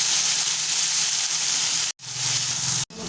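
Ginger and spices fry in a pan with a loud, steady sizzle that cuts out twice for a moment and then resumes.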